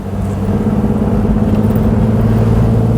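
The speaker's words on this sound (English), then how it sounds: "it does mean it's got effortless acceleration" A Gilbern Invader Mk3, a light Welsh sports car, accelerates with a steady, loud engine drone and low rumble heard from close by, alone without talk.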